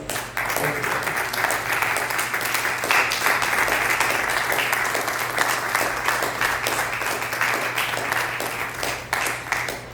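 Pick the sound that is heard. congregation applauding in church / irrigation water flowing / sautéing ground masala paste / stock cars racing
congregation applauding in church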